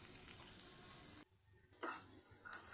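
Pepper and onions fry in a pan with a steady high sizzle, close and moderate, cut by a brief silent gap before the frying resumes with a few soft stirring scrapes.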